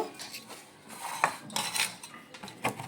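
A utensil scoops up sun-dried tomatoes from a dish, making a few light scraping and clinking strokes at irregular intervals, close and quiet, with no talking.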